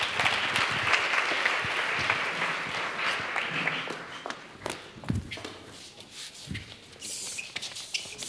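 A church congregation claps together for Jesus, a loud burst of applause that thins after a few seconds into scattered claps, shuffling and footsteps around the room.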